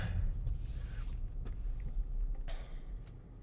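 A Tesla electric car rolls across a parking lot, heard from inside as a low, steady road rumble with faint rustles and clicks over it.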